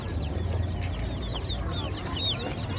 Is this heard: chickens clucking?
yes